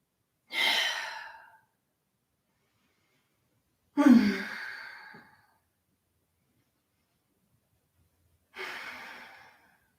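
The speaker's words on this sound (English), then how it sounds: "Take deep breaths." Three deep, audible exhalations during a yoga backbend such as bridge or full upward bow, each a breathy sigh lasting about a second, spaced several seconds apart with quiet in between.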